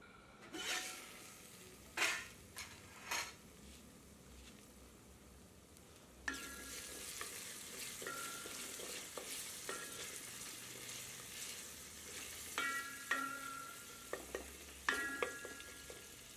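Tomatoes cook covered in a pan over low heat for Kerala-style Malabar chicken, giving a soft, quiet sizzle broken by several light clinks and taps of a lid or utensils.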